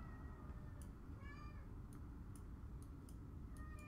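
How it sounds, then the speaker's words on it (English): A cat meows a few times, faint and in the background, over a steady low rumble with light ticking sounds. "You can hear my cat lamenting in the background,"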